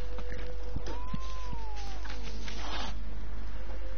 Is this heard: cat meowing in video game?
yes